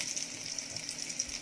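Butter melting in a pan gives a soft, continuous hiss and crackle with small irregular pops, close and fairly quiet.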